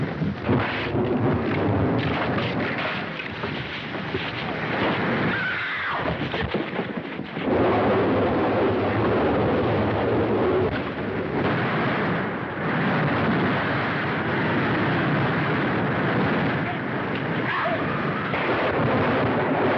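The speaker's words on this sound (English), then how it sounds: "There's a storm coming." A storm with thunder in a 1933 film serial, heard as a continuous loud roaring wash of rumble and rain-like noise, with a short dip partway through, and no voices.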